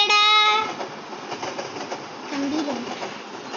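A train runs in the Roblox multiplayer game Frozen Rails, with a steady rolling rumble and rattle throughout. A brief tonal horn-like sound opens it before the noise settles.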